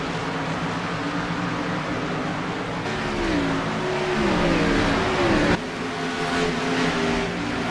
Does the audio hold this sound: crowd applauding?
no